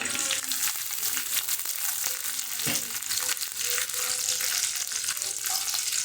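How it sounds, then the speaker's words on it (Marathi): Garlic and chillies sizzle steadily in hot oil for a fenugreek-leaf (methi) bhaji, a continuous crackling fry with occasional stirring scrapes, close and loud throughout. "लसूण टाकते मिरच्या टाकते"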